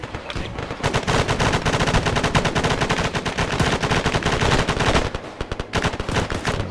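Sustained rapid 30 millimeter cannon fire from a BRDM armored vehicle, loud and close, a dense unbroken stream of heavy shots with only a brief pause near the end.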